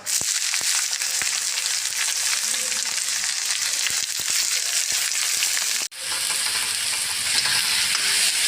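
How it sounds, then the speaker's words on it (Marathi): Chopped onion and cumin fry in a pan with a steady close sizzle, scraped and stirred now and then with sharp clicks and one brief break partway through. "कांदा चांगला भाजून घ्यायचा लाल होईपर्यंत थोडं मीठ टाकते"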